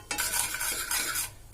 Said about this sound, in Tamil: லோ ஃப்ளேம்ல வச்சு நல்லா கிண்டி விட்டுட்டே இருங்க